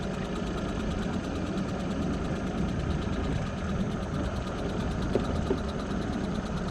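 A boat's big outboard motor running at a steady low idle during a night alligator hunt near Nassau, Florida, a continuous rumbling drone close by with no talking.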